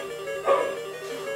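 A dog in the Mario Maker video game gives one short, clear bark over quiet game music, barking each time the player floats.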